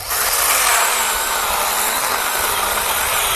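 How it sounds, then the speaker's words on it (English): An Orblon 20V six-inch one-hand mini chainsaw cuts through an oversized piece of wood, its motor giving a loud, steady, buzzing whine throughout with no pauses. "It's just totally buried and it's just still sawing."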